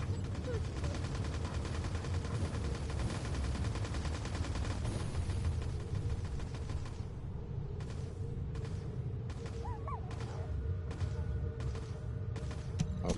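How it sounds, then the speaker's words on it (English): Sustained rapid gunfire in The First Descendant, dense continuous bursts for most of the stretch, thinning into separated shots toward the end with a faint voice underneath. "Why are you shooting me?"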